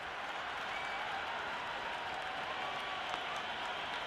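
A cricket crowd in the video game Cricket 26 roars and applauds continuously, a steady wash of distant cheering and clapping that holds evenly throughout.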